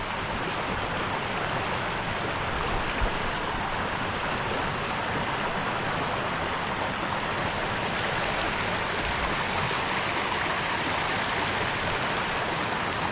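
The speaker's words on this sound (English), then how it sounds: "So if you like the sound of trickling water" Water trickles and rushes through the Careyburn waterfall stream, dropping between rocks in a continuous, fairly soft broadband wash with no voices.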